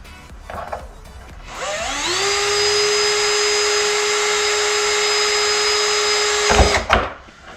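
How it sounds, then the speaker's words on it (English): A power drill bores a hole during a track bike build, its motor spinning up to a steady high whine that holds for about five seconds before cutting off abruptly, close and loud with no talk. "Drill this one."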